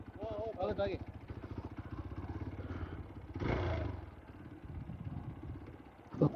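A motorcycle rides through the hills around Sakleshpur in Karnataka with a steady engine drone and some rattling clatter. The engine swells briefly partway through, and voices can be heard over the ride.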